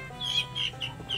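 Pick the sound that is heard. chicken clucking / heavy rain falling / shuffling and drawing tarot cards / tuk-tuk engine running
chicken clucking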